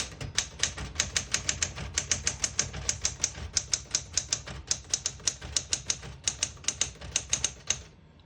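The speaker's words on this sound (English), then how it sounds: "I'll type a sentence in red on the next line" Keys strike on a 1966 Smith-Corona Super Sterling portable manual typewriter set to type in red, giving a fast, crisp, close run of clacks in bursts with brief pauses in between.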